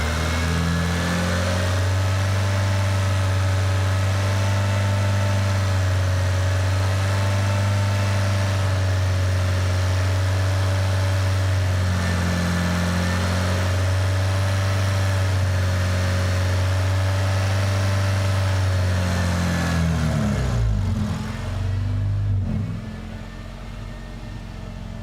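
A Honda car engine idles with a steady mid-pitched hum, then the throttle is eased up slowly so the tone rises gradually before dropping away near the end; close and loud, no talking.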